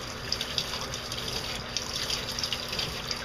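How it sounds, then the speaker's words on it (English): Water from a shower head sprays steadily into a dog's coat during a final rinse, giving a soft continuous hiss and gush with small splashing fluctuations. "For the most part, you'll end up putting the shower head right into the hair,"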